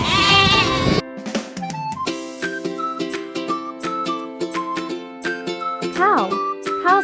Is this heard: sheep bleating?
yes